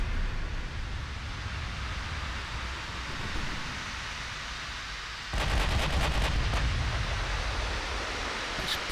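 Naval gunfire from warships in Ultimate Admiral Dreadnoughts: a broad, rushing roar of sea and distance, then a sudden louder boom partway through followed by a few sharp crackling reports.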